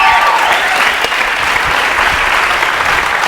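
Loud, sustained applause from an audience at an interview event, a continuous wash of clapping with no speech over it.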